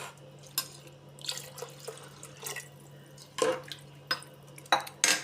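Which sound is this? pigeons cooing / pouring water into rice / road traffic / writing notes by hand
pouring water into rice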